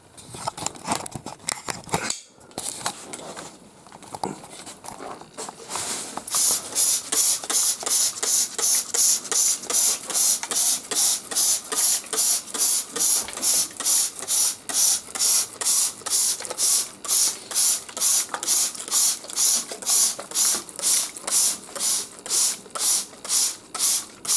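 Bokabi Samurai anti-mold spray pumped from a trigger bottle during mold cleaning, a long, even run of loud, rapid spritzes in close succession after a few scattered earlier sprays, close up with no talking.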